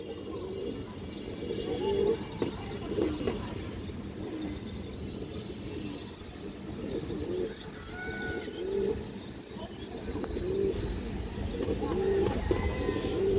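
Pigeons coo in a loft of fancy high-flyer breeds, with repeated soft throaty calls close by over steady background noise and faint chirps.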